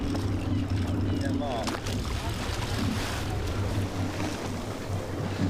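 A fishing boat's engine idles at tick over while drifting at sea about 27 miles off Montauk, a steady low droning hum with wind and water wash, and someone talking over it.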